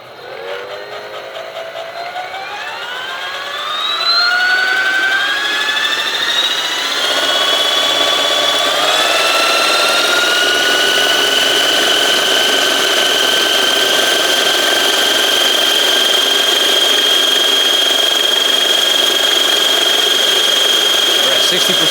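An AS350 Red Bull 450-size RC helicopter spins up for its maiden flight, its motor and rotor whine climbing steadily in pitch over several seconds and then holding a loud, close, high tone, with voices now and then.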